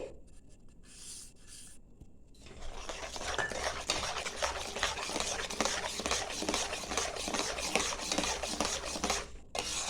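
A spoon stirring a milk powder mixture in a pan over gentle heat, steady scraping and rubbing strokes repeating close and clear after a few quieter taps at the start.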